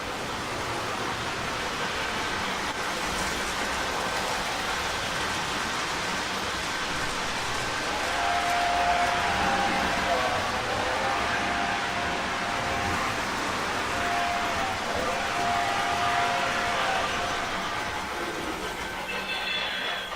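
Model trains running on a home layout, a steady rolling rumble and hiss of wheels on track with faint squeals and whines drifting in and out, continuous and fairly close.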